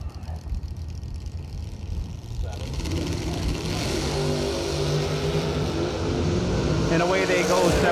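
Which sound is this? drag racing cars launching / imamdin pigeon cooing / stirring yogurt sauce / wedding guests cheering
drag racing cars launching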